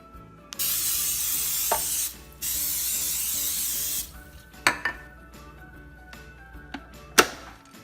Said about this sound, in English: now that my vertical waffle maker is all heated up, I will be putting a little bit of coconut oil spray on there and then pouring my batter in